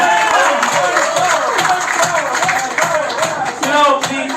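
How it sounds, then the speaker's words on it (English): A stand-up comedy audience claps and murmurs in a loud, dense wash of crowd noise, with voices mixed into the applause throughout. "Please, round of applause"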